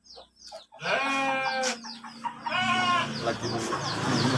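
Goats bleat loudly and close by at a livestock pen after Eid al-Adha, with several overlapping wavering cries that run almost continuously after a brief quiet start.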